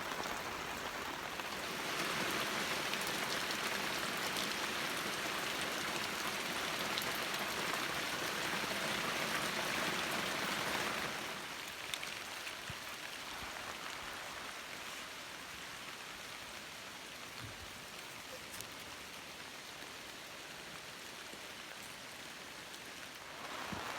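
Hail and rain pelt a camping van on a cold, windy day, a dense steady hiss of drumming on the roof that is heavier for the first half, then settles into a softer, even patter.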